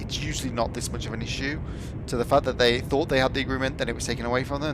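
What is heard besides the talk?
No distinct noise like a dog, phone or traffic.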